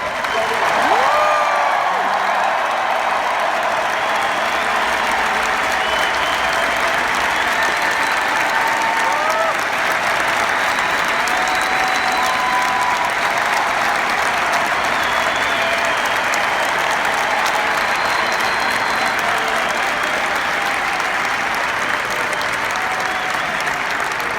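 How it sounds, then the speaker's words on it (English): A large arena crowd roars and claps loudly during a tribute ceremony, a continuous dense wall of cheering and applause that never lets up, with scattered whistles rising above it. "But now let her hear your applause."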